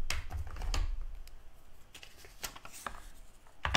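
Scissors cutting a Post-it note: a series of short, crisp snips and rustles at an uneven rhythm, close and fairly quiet, with no talking.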